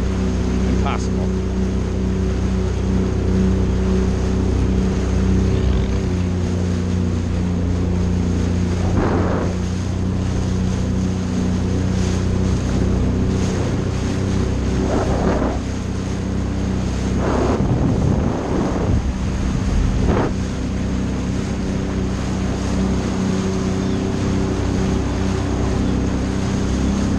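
Jet ski running on the ocean near seals, a steady loud engine drone mixed with rushing wind buffeting the microphone and splashing water throughout.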